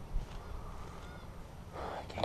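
Geese honk at a distance near wet ground by a fishing spot, a few calls scattered over quiet outdoor ambience.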